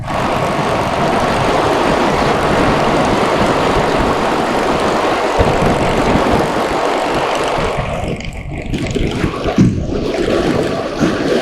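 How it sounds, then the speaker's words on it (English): A motorcycle engine drones steadily while riding, a loud, continuous roar mixed with wind rush that eases slightly toward the end. "That really is one proper motorcycle."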